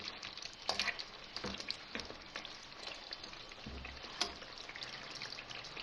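Mixed vegetable masala is stirred in a pan after slow cooking on a low flame, giving a soft sizzle with scattered scraping and clinking stirs, moderately close and heard without talk.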